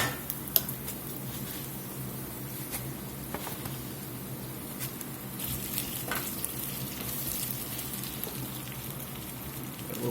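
Spinach hits a pan of browned, softened onions and fries, giving a steady soft crackling sizzle with scattered pops, close and even throughout, no voices.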